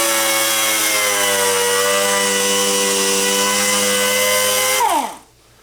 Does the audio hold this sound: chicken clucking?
no